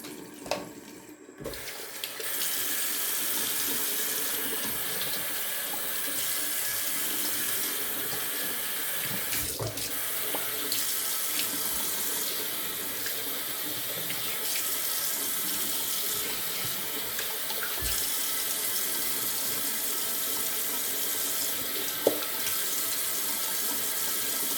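A tap runs steadily in a barbershop while a face mask is rinsed off, producing a constant close splashing stream with a few brief clatters.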